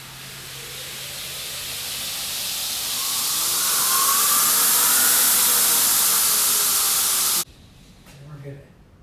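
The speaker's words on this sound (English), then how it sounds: "I want to introduce you to my Ameribrade belt grinder" An Ameribrade variable speed belt grinder spins up with a rising, hissing whir that swells and holds steady, then cuts off abruptly, leaving a faint rattle.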